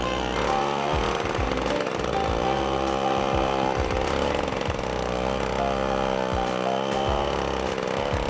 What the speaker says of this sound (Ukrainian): А ми старенькою своєю дружбою, ще 80 якогось там не пам'ятаю вже року випуску, ріжемо лід і ставимо хреста.